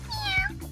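A cat gives a single short, close meow, rising then falling in pitch.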